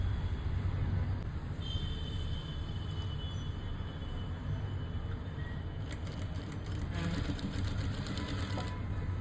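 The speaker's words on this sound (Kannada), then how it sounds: "ಅಷ್ಟು ಎಡ್ಜಿಗಾಗುತ್ತೋ ಅಷ್ಟು ಎಡ್ಜಿಗೆ ಸ್ಟಿಚ್ಚನ್ನು ಹಾಕ್ತಾಯಿದ್ದೀನಿ" Sewing machine stitching close along a blouse edge, a steady dense mechanical whir running continuously throughout, with a brief rapid clatter of stitching near the end.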